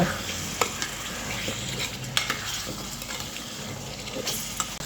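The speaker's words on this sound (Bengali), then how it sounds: "আলুটাকে এখন মশলার সঙ্গে খুব ভালোভাবে কষিয়ে নেব" Potatoes fry with spice paste for a rohu fish curry, a steady broadband sizzle with scraping stirs and a few sharp spatula knocks against the pan.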